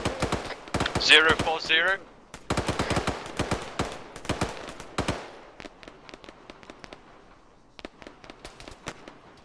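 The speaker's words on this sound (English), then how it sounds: "Where are those shots from?" In a CSAT military shooter game, dense volleys of rapid gunshots crack close and loud, then thin out into sparser single shots, with a voice speaking briefly among them.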